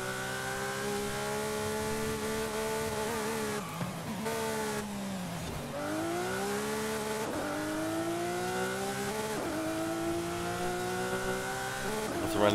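A Lamborghini Aventador SVJ in Forza Horizon 5 revs hard through its gears, the engine note climbing repeatedly with brief dips at each shift, loud and continuous.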